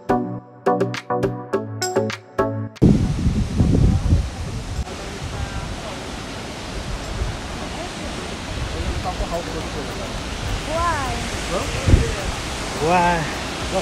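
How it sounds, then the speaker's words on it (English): Lisbon Falls waterfall in South Africa, heard as a steady broadband rush of falling water after a brief burst of music, with voices talking intermittently over the continuous roar. "we are at Lisbon Waterfall."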